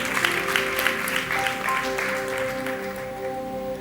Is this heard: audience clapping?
yes